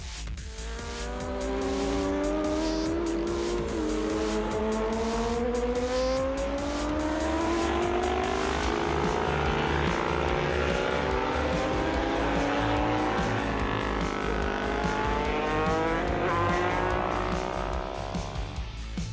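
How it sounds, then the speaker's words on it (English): A jet-powered drag truck races down a drag strip with a loud, sustained roar and a sweeping whine that rises and falls over about nineteen seconds, with no talk over it. "Built purely for entertainment, it spits fire and thunder down the drag strip."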